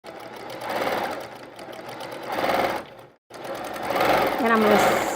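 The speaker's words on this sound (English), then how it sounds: "And I'm going to sew right off the end." A sewing machine stitches quilt fabric in a rapid mechanical chatter that swells and eases in bursts, stopping briefly before starting again, with a voice speaking over it.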